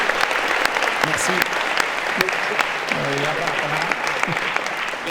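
An audience at a film screening claps steadily, a busy wash of many hands, with a few voices murmuring beneath it partway through.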